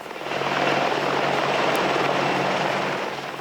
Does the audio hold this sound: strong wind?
no